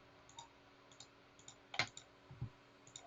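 Sparse, faint single clicks of a computer mouse in a quiet room, irregularly spaced, with one sharper, louder click near the middle.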